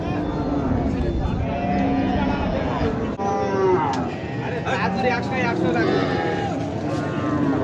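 Deshi and Sahiwal cows at a rural cattle market moo repeatedly in long, loud calls close by, overlapping with people talking throughout.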